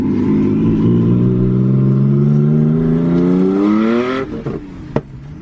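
A twin-turbo Nissan 370Z engine revs loud and close, its pitch climbing steadily for about four seconds before dropping off into a few sharp clattering pops.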